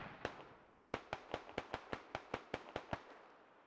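Explosions and grenades in the tactical shooter Squad, a rapid series of about a dozen sharp, cracking pops at an irregular quick rhythm, heard from a distance and fairly faint.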